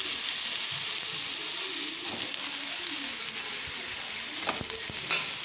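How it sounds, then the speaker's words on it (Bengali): Eggplant pieces frying in hot oil in a wok, a dense continuous hiss and sizzle with occasional faint clinks and scrapes toward the end, no voices. "এখন সমস্ত যে বেগুনগুলো ছিল একটা একটা করে সব বেগুনগুলোই আমি কড়ার মধ্যে দিয়ে দিচ্ছি।"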